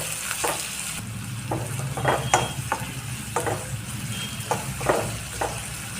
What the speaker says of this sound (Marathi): आता कांदा मस्त असा गुलाबी रंगामध्ये आपल्याला परतून घ्यायचा आहे गॅस कमी ठेवायचा